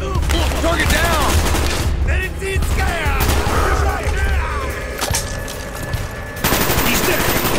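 Gunfire in Call of Duty: Black Ops, with dense overlapping automatic bursts and rapid shots crackling close and loud through most of the stretch, mixed with game effects while voices call out over the shooting.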